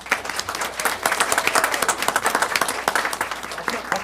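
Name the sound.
applause for police employee of the month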